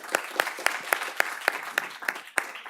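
A standing audience at a South Orange County economic coalition health forum applauds Mission Viejo Mayor Brian Goodell, with a steady run of sharp, fairly sparse claps at moderate distance and no talk over it.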